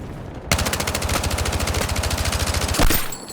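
Automatic rifle fire in the video game Battlefield 6 rattles in one long, loud, rapid burst of evenly spaced shots lasting over two seconds, followed by a heavier report and a brief tail.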